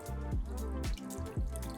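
Water runs and drips in a salon sink while hair is rinsed during a nanoplasty treatment, with soft repeated splashes and drips falling in a loose rhythm, fairly quiet and close.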